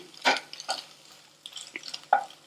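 A utensil stirs and tosses chapati egg noodles with masala in a pan, making a few soft scraping, clinking strokes in short bursts, close and fairly quiet with no talk.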